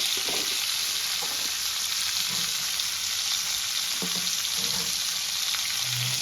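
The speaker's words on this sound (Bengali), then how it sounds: "এবার নুন আর হলুদ দিয়ে লাল লাল করে ভেজে তুলে নেব।" Cauliflower and vegetables frying in hot oil with salt and turmeric on a gas stove, a loud continuous sizzle with occasional stirring scrapes and clinks of the utensil, no talking.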